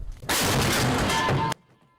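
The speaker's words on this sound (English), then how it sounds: "Cannon, fire," A KS-19 anti-aircraft gun fires a single loud, close cannon blast that holds as a roaring burst for over a second, then cuts off sharply.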